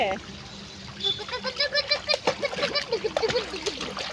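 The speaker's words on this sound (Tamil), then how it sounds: "இப்போ தான் மறுபடியும் திரும்ப வயலில் தண்ணி விட்டுருக்கனால வாய்க்காலில் தண்ணி வருது." Irrigation water splashes and trickles steadily into a paddy field channel after the rice harvest, with children's voices and chatter over the flow.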